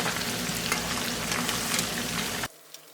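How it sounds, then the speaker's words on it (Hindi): Ginger and garlic fry steadily in hot oil with a dense, even sizzle that carries loud and unbroken, then cuts off abruptly near the end, leaving near silence. "बस 1 मिनट और देंगे ताकि जो जिंजर गार्लिक है थोड़ा सा और गोल्डन हो जाए"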